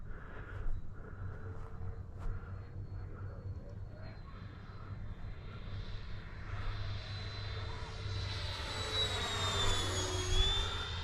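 Freewing F-4 Phantom RC model jet flying overhead, its ducted-fan whine rising and sweeping in pitch as it passes, getting louder toward the end over steady low rumble of wind and ambient noise.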